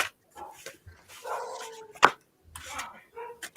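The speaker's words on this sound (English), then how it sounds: "Dog's getting in trouble." Dogs bark in short sharp bursts and scuffle about indoors, with soft thumps, scrabbling and a whimper between the yaps, moderately close.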